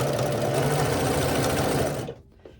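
A domestic sewing machine chain-pieces rows of a herringbone quilt in one rapid, steady, close mechanical whir that stops abruptly near the end, leaving a faint clack.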